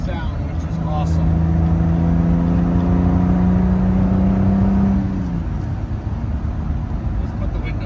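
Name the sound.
1965 Aston Martin DB5 six-cylinder engine driving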